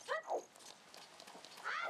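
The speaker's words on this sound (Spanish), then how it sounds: "Aquel perro me está siguiendo." Dog barking inside Zelda: Ocarina of Time at Lon Lon Ranch, a couple of short game barks at the start and end of the moment, with quieter ambient game sound between them.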